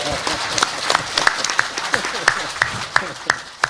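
An audience at a Korean National Assembly policy debate gives a round of sharp, rhythmic clapping, with regular hand claps about every third of a second under a faint murmur of the crowd.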